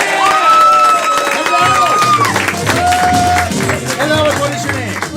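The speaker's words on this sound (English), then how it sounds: "Clap for them, everyone." Live audience at a comedy show claps and cheers as a volunteer comes up, a loud dense crowd sound with whoops over it and a host speaking through the noise.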